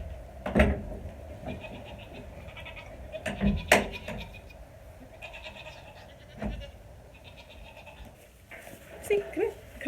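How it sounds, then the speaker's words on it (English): Boer meat goats bleat on a farm in scattered, close calls, several loud cries spaced apart over a quiet outdoor background, with brief clatters between them. "they are boar goats, which is a meat goat"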